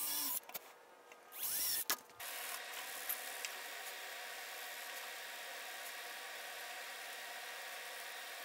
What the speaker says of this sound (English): now I have to drill out the holes for the toe point